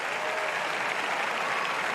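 Spectators at a tennis match between Holger Rune and Albert Ramos Viñolas break into steady, dense applause, an even, full clapping that fills the whole moment with no talk over it.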